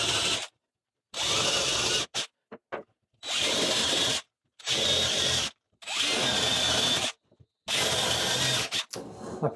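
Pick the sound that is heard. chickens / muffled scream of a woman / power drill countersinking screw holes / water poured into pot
power drill countersinking screw holes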